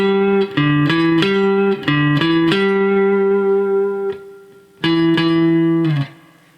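Electric guitar picking out a hook, clean sustained notes in short repeated phrases with a long held tone and a pause before the final phrase, played alone.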